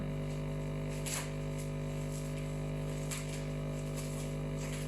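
A steady low electrical hum from an Aquael OxyPro 150 aquarium air pump runs throughout, with faint clicks and light handling noises on top.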